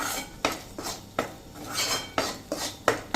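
A spoon scrapes and knocks against a pan while stirring a ghee-roasted sukhdi mixture, giving a series of irregular clinks and scraping strokes at close range with no talk.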